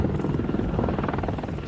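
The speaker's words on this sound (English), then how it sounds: "Another key to American hopes is the Apache helicopter." An Apache attack helicopter in a Desert Storm war setting thuds with steady, rapid rotor blade chop over a dense engine roar, loud and continuous throughout with no voices.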